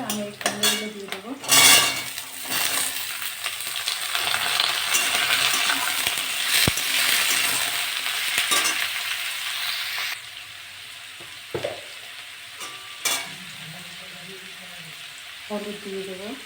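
Pumpkin pieces fry with browned onion and green chili in a pan, a steady broadband sizzle under clattering utensil and pan knocks, fading quieter near the end with brief scrapes and stirring.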